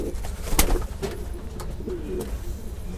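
Domestic pigeons coo repeatedly in a close, busy loft, with soft throaty calls and the occasional sharp flutter or click among the birds.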